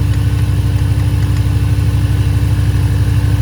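On a Land Rover with air suspension, a steady mechanical hum and rapid low clatter run continuously from the compressor and valve block working to raise the vehicle, heard close and loud with no voices.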